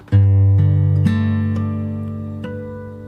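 Fingerstyle acoustic guitar plays the next bar of a song from Aladdin, with plucked notes ringing over a sustained bass, a few distinct note onsets over about three seconds, close and clear with no talking.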